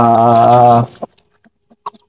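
A chicken lets out a loud, drawn-out call up close, then goes quiet apart from a few faint clicks and rustles.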